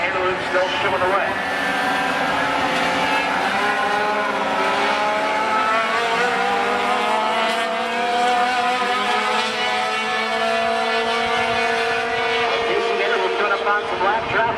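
Sport trucks race at Wisconsin International Raceway, several engines whining and droning together in sweeping overlapping pitches, loud and continuous as they circle the track, with commentary running over them.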